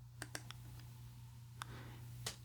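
Quiet mouse clicks on a computer while working in FL Studio, a few sharp isolated clicks spaced irregularly over a steady low electrical hum.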